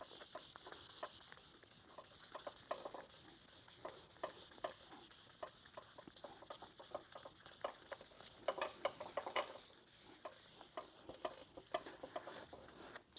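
Soft interface sanding pad scuffing painted automotive bodywork during spray-paint prep, a steady rubbing hiss with repeated rhythmic strokes that swell louder near the end, no talking.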